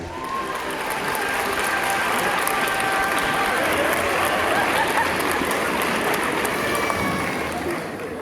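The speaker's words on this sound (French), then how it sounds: "On peut les applaudir très très fort, s'il vous plaît." A large audience at a hypnosis show at the Grand Rex applauds strongly and continuously, a dense wash of clapping with some cheering mixed in, sustained for about eight seconds.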